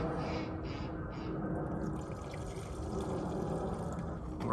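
Oil being poured into the engine of a Land Rover LR4 during an oil change, Napa Gold 0W20 that flows thin like water; a steady, continuous liquid pour with faint glugging throughout, close and moderately loud.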